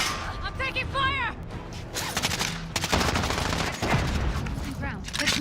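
Rapid bursts of automatic gunfire crackle in a Call of Duty Warzone battle, dense volleys and single shots layered close, with players talking over the fight.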